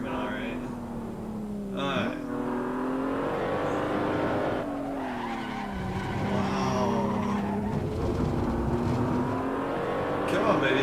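A car drifts and skids around a track in a racing video game, its engine revving up and down through shifts with squealing tires, while someone talks over it.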